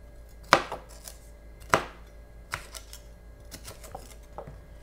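Bell peppers get chopped into big chunks on a board, with two sharp, close knife strikes followed by several lighter, irregular taps, and no talking.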